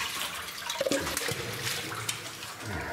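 A person plunges into water at the bottom of a flooded mine shaft, a broad close splashing and churning that runs the length of the clip with a few sharper slaps near the start.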